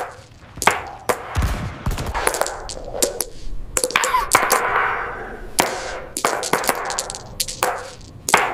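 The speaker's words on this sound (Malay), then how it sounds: "tu bunyi tekanan dalam paip air je" Water hammer knocking in household water pipes: irregular sharp raps and clunks, some in quick clusters, ring out loud and close against a faint background hiss.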